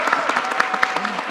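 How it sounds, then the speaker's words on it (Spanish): Presentation audience claps in a brief burst of applause, a dense patter of hands lasting about a second and a half, with a voice speaking over it. "Con Rafa aplaudieron más."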